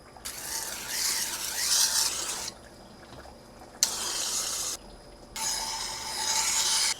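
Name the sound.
polishing a Japanese steel knife blade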